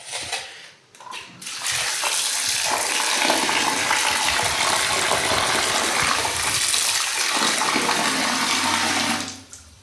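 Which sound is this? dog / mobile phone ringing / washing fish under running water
washing fish under running water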